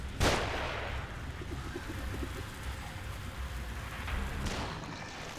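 Sniper gunfire in the video game The Evil Within, two sharp distant cracks, one near the start and one near the end, over a steady rain-like game ambience.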